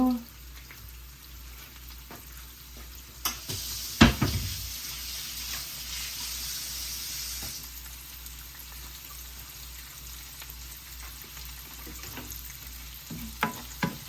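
Onions frying in a pan of oil for a pepper shrimp and tomato curry, giving a steady broadband sizzle with a few louder stirring clatters near the start and again toward the end.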